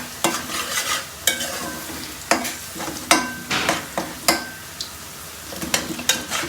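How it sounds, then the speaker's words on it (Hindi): Potatoes fry in spices (coriander, crushed chili, cumin) in a pan, a steady sizzle broken by repeated sharp scrapes and clinks of a spoon stirring against the metal, close and fairly loud with no talk. "अब हम आलू को भूनेंगे अच्छे तरीके से मसाले में डाल के।"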